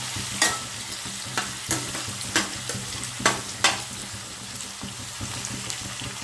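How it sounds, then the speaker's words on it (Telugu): Garlic and onion frying in a pan for tomato rice, a steady soft sizzle under repeated scrapes and clacks of a spoon stirring, with no talk. "ఆనియన్, వెల్లుల్లి వేగిపోయండి"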